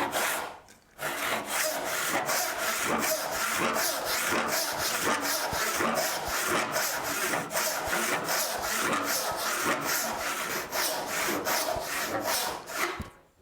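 A hand saw cuts through wood in rapid, even back-and-forth strokes, each rasping pass loud and close, with no talking.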